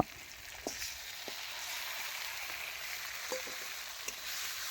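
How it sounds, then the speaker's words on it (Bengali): Spiced chicken hits a hot pan and fries with a steady, bright sizzle, punctuated by a few small clicks and taps, close and moderately quiet, with no talking. "এখন চিকেন ঢেলে দেব"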